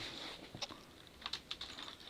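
Light, scattered keystrokes on a computer keyboard, fairly faint, with a few sharper clicks standing out while someone sets up a folder for Bukkit server plugins.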